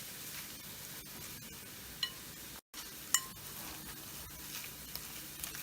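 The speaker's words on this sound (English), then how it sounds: "so now we're just going to mix all this together" Meal prep ingredients with sriracha being mixed with a fork, heard as soft close scraping and stirring with a couple of faint clinks against the container and a brief cut to silence partway through.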